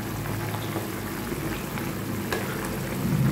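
Raw jackfruit chili gravy bubbles and simmers steadily in a pan, a close, continuous soft sizzle and boil with no voices.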